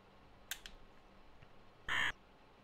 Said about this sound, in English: Gotta love that occasional crow sound effect.